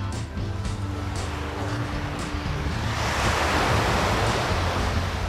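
Waves surge and break on a choppy sea day with loud, broad rushing surf that swells toward the end. Wind buffets the microphone throughout.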